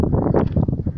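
Cold, light wind buffets the microphone on a seaside embankment in Balaklava, Crimea, a low rumbling rush with gusty fluctuations throughout the short moment.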